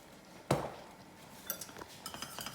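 A utensil clinks sharply once against a pot of mussel curry sauce, then scrapes and taps lightly several more times while the sauce is stirred, close and fairly quiet.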